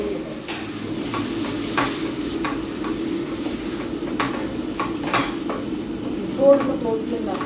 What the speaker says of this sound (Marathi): छान परतवून घेते.